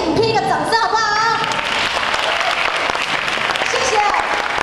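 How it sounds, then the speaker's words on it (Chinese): An audience at the 2015 DFC sharing conference award ceremony applauds a screened film, continuous clapping with a voice speaking over the start and music faintly underneath. "我们还是给这个影片一个掌声好不好"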